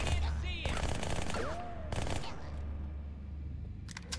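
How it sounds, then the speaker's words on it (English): AI enemies in Halo 2 fire at fresh corpses, bursts of automatic gunfire crackling in rapid volleys amid game effects, with someone talking over the shooting. "I see the AI still likes to shoot freshly dead corpses."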